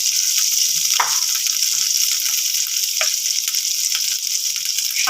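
Ginger fries in oil with a loud, dense, unbroken sizzle close up, with a few faint clicks underneath.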